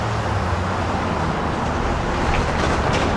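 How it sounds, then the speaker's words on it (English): A 12-car LIRR M3 commuter train passes nearby, giving a loud, continuous rushing rumble with a low steady roar throughout. "This one's running with an M3 set led by 9839."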